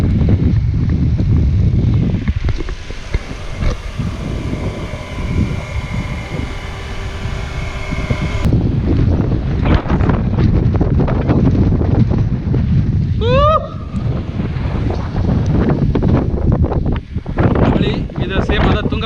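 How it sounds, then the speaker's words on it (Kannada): Strong wind gusts buffet the microphone on the Tungabhadra river backwaters during monsoon rain, a loud continuous roar with water and boat noise beneath, while brief chirps cut through near the middle. "ಗಾಳಿ ಸಿಕ್ಕಾಪಟ್ಟೆ ಐತಿ."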